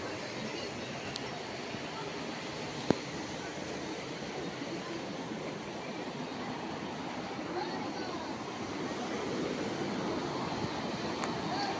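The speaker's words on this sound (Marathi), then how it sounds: "एवढं खळखळ पाणी आहे इकडे" Gurgling water flows steadily at a scenic waterside spot, a continuous broadband rush that fills the whole stretch with no clear pauses.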